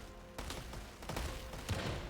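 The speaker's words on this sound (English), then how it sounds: "the sheer amount of mortar fire going on here" Mortar and cannon fire in a team deathmatch strategy video game, heavy Turkish cannons among it: a dense fusillade of booming shots and impacts, several heavy bursts in quick irregular succession, loud and continuous with no talk over it.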